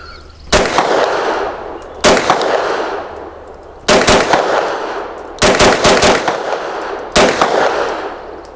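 Grand Power Stribog SP9A3G 9mm fed from Glock magazines firing outdoors, five loud sharp shots spaced roughly a second and a half apart, each with a ringing tail, no talking.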